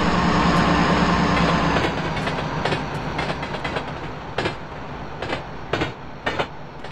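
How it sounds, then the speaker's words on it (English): A subway train in the video game GTA San Andreas rumbles into a station and slows, with loud steady rolling noise giving way to rhythmic clickety-clack of wheels over rail joints, and no talk. "There is a downtown local 4 train to Newlands Avenue. Approaching the station"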